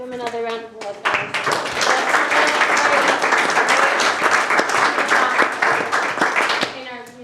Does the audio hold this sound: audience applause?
yes